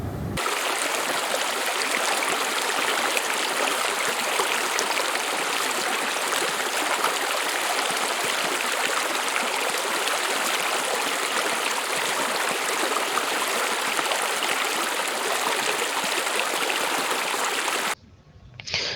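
Treated wastewater pouring from an outlet gate at the ARA Thunersee treatment plant toward the Aare river, a steady, loud, unbroken rush of water that continues for the whole span before cutting off abruptly near the end.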